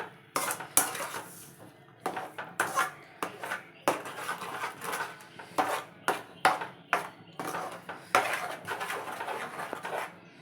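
Ravva kesari with sugar being stirred in a metal pan, a spoon scraping and clinking repeatedly against the pan in an irregular rhythm, close and clear with no talk.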